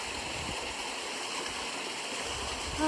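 A small waterfall spills into rocky creek pools at Blinman, making a steady, fairly soft broadband rush of flowing water that continues evenly throughout, with no voices.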